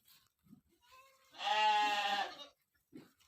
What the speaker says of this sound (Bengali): অনেকগুলা ছাগল আছে এখানে